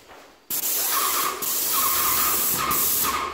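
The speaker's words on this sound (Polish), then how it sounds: "Staram się tutaj blisko tej frame psikać mimo wszystko, bo ten akrylik, żeby pokryć" A paint sprayer blasts white acrylic paint onto woodwork in a house, a loud steady hiss that starts abruptly and continues with slight pulses as the spray pattern shifts, with no talking.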